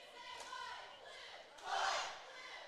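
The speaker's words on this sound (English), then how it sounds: "And this crowd, they've been excited." A high school basketball crowd roars and shouts in a gym, a fairly distant, swelling wave of cheering that peaks briefly before easing off.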